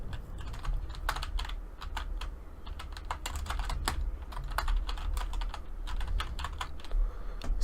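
Rapid, steady keystrokes on a computer keyboard as a file name is entered in MS Word, close and continuous with uneven clusters of clicks over a low room hum, no voices.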